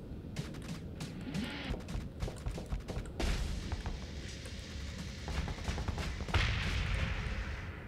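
Bursts of machine-gun fire from ships in the space combat game Starsector crackle in rapid, dense volleys, building into a heavier, louder barrage toward the end, with no talking.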